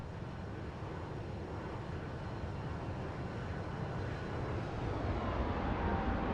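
Jet engine roar of a Toliss A321 airliner at takeoff power in X-Plane 11, a dense, steady broadband rumble and hiss that builds slightly toward the end, with no talking.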